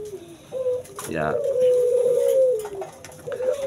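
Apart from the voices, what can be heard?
spotted doves and zebra doves cooing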